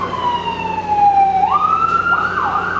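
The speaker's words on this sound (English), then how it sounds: "that was also just somebody yelling along with the police siren" A loud police siren passes outside, its wailing tone sliding down and then rising again with a slight shift as it moves by, fairly near and steady over the background.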